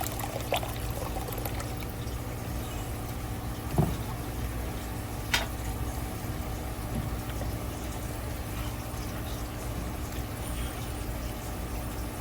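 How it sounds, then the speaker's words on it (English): Homemade garden-grown liquid poured from a container into a big cooking pot for one-pot hamburger macaroni, a steady continuous pour with a soft splashing wash and a couple of brief knocks, no talking. "So we're just going to pour this in here."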